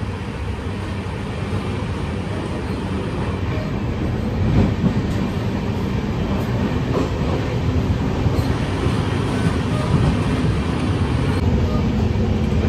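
Inside a running Kongu Express train from Coimbatore to Kacheguda, a continuous loud rumble of wheels and carriage noise fills the space, with faint rhythmic clatter throughout.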